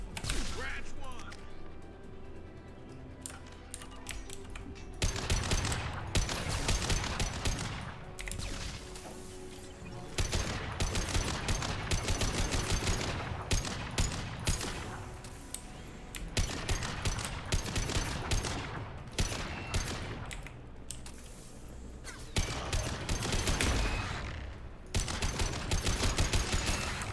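Rifle fire in the sci-fi shooter Mass Effect 2, loud and sustained: dense bursts of rapid shots and cracking impacts fill the whole stretch, with a few short gaps between volleys.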